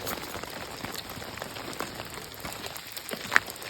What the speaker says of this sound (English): even though it's continued to rain